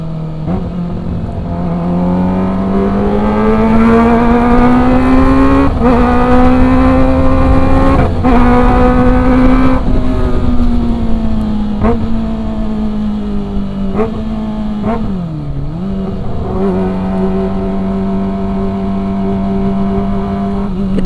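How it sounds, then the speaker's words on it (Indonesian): A Kawasaki ZX-25R motorcycle engine while riding, a loud, sustained high-pitched inline-four wail that rises and falls with throttle changes and brief gear-shift breaks, close and continuous with no talk. "Kita nikmatin aja ya rasanya pakai ZX25R."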